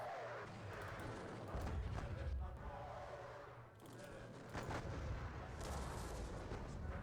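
Artillery fire in a John Tiller Napoleonic wargame at the Battle of Dennewitz, a few dull booms over a rumbling battle bed, fairly faint.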